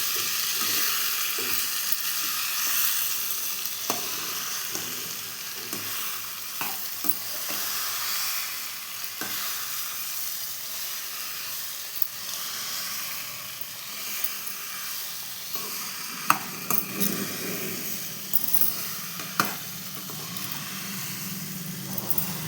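Ridge gourd curry sizzles and hisses steadily in a pan as it is stirred through, with occasional scrapes and clicks of the spoon over a continuous frying noise; no one speaks.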